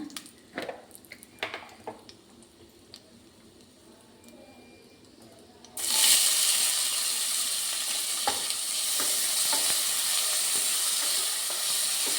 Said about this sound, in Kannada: ಈಗ ಸ್ವಲ್ಪ ಈರುಳ್ಳಿ ಹಾಕ್ಕೊಳ್ಳೋಣ